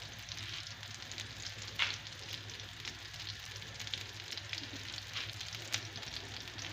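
Stuffed waffles filled with buckwheat and meat fry in a pan over medium-high heat, a steady close sizzle with occasional sharper pops and crackles, no talking.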